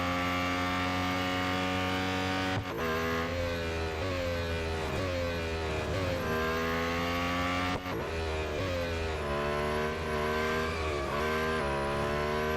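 A Lotus Emira GT4 racing in Real Racing 3, its engine a loud sustained whine with gear-change dips and rising revs, tires skidding across the track, no talk.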